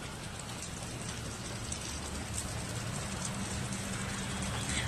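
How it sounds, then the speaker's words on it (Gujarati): Rain falls steadily at a moderate distance, a soft even hiss with a low rumbling undertone throughout. "વરસાદ પાછો ચાલુ થઈ ગયો છે"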